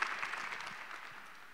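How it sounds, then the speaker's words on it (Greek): Audience applause in a conference hall, a soft, steady patter of clapping from a seated crowd that gradually fades. "Ένα θερμό χειροκρότημα για τον κύριο Κυρανάκη."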